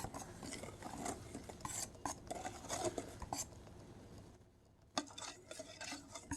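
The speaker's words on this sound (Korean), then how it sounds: "이렇게 살살 저어줍니다" Egg and flour batter is gently stirred in a bowl, producing soft, irregular scraping and clinking of a utensil against the dish, quiet and close, with a brief pause before it resumes.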